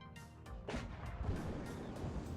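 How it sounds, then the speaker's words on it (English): A T-55 tank gun firing in the Cold War strategy game WARNO, one sharp booming shot with a crashing tail, followed by ongoing distant battle rumble. "T-55 got the shot off first."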